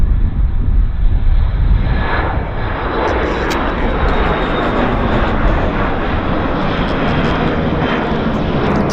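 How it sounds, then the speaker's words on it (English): Airplane takeoff roll at Vancouver airport: a loud, steady jet engine roar with wind rumble that holds for about nine seconds without letting up, with no talk over it. "I'm sure this will be a short takeoff roll."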